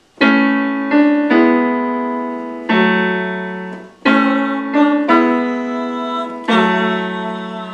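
Piano notes played one after another in a short melodic phrase, each struck clearly and left to ring, loud and close with no talking.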